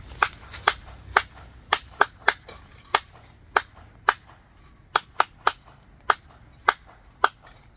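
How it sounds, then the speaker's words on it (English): An SOS signal code repeated three times as a series of sharp, loud percussive cracks in short irregular groups, crisp and close with quiet gaps between, and no voices. "So that is SOS signal code."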